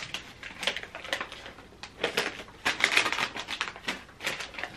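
Crisp packet being opened close up, a quick series of sharp crinkling, rustling crackles in irregular bursts, fairly quiet with no talking.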